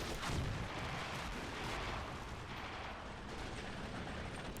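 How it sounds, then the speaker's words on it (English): Finnish artillery rounds pound a snowy town in a winter battle video game, a faint, continuous rumbling barrage of distant impacts with no clear pauses. "Finnish artillery rounds hitting there on the far side of the town"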